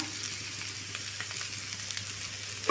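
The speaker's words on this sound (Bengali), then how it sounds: "সব কিছু একটু এভাবে তেলে নাড়াচাড়া করে নেব।" Boiled potato with salt, chopped chili, ginger and garlic sizzles quietly in oil in a pan, with a soft, steady frying hiss and a few faint scrapes from stirring, one of them sharper near the end.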